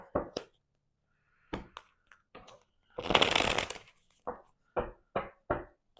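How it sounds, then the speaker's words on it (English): Tarot cards being shuffled by hand: a few short riffles and taps, then one longer, dense shuffling burst, followed by several quick card snaps, close and clear with no talk. "Just going to shuffle one more time."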